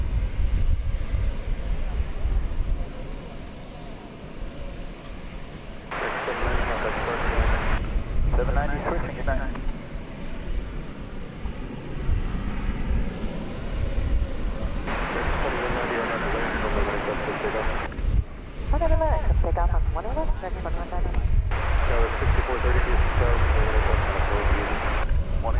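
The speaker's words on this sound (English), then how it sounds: "Poised for takeoff there, American Flight 2190 to Silao in Mexico at 737" An American Airlines Boeing 737-800 takes off at DFW Airport at night, its jet engines roaring in a broad, sustained rumble that swells and fades, with a voice talking over it at times.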